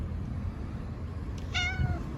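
A single cat meow, a short rising-falling cry, sounds once near the end over a steady low background hum.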